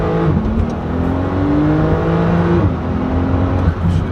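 A Porsche 991 Turbo S engine pulls hard under acceleration, its rising drone stepping down sharply at quick gear shifts, loud and close inside the car.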